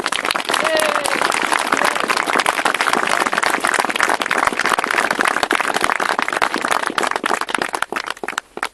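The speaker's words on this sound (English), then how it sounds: "could I ask everybody to join with me in a round of applause to Philemon David and the Zimbabwean demining team" A large audience at an outdoor public opening of a stone corral in the Falklands gives dense, continuous applause to a Zimbabwean demining team, loud and close throughout before tapering off at the very end.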